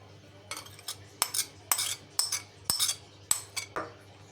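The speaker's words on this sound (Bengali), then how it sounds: "এবার সব কিছু মিশিয়ে নিচ্ছি" Spoon clinking and scraping in a bowl while soaked, swollen semolina and oats are stirred together, about eight separate strokes in an uneven rhythm, close and fairly clear with no talk.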